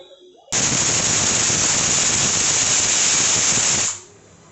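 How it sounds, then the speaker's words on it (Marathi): A pressure cooker boiling potatoes vents one long, loud, close blast of steam that starts abruptly, holds steady for about three seconds, then fades. "कुकरच्या आपण चार शिट्ट्या करून घेऊयात"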